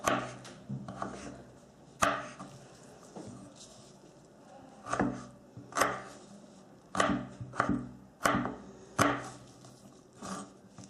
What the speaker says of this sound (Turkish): Havuçlarımızı da tavla zarı şeklinde doğrayarak devam ediyoruz.